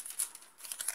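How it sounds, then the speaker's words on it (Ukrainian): A kraft paper bag for packing handmade soap is handled up close, giving soft, quiet crinkling and rustling in small irregular bursts for about a second. "Ось такі пакетики. Вони з крафтового паперу."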